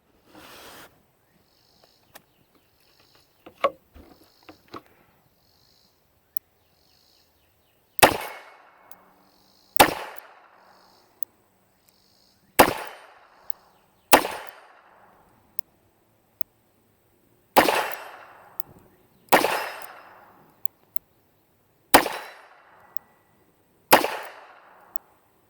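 A .22 Magnum double action revolver is fired outdoors, eight sharp, loud reports spaced a couple of seconds apart, each trailing off in a short echo, after a few quieter clicks and handling noises, with faint insect chirping behind.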